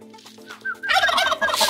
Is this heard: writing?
no